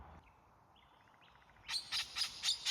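Parrots calling at a bird feeding spot, a few faint chirps first, then a run of loud, harsh, rhythmic calls repeated about five times close by.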